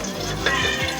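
Vermicelli toasts with four cardamom pods in a pan, a loud close crackling sizzle with a couple of light stirring scrapes over one brief second.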